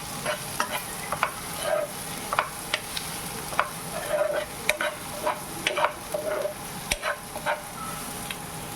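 Tindora (ivy gourd) pieces with turmeric are stirred in a frying pan, with a spoon scraping and clattering repeatedly over a soft, steady sizzle, close and moderately loud, with no talking.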